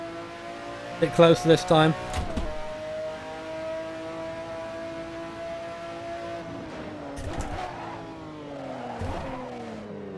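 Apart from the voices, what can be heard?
F1 GTR race car engine downshift blip, Assetto Corsa video game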